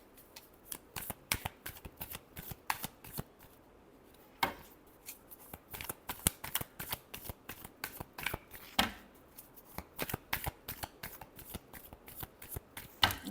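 Close, crisp riffling and slapping of tarot cards being shuffled repeatedly in quick irregular bursts, with no talk over it.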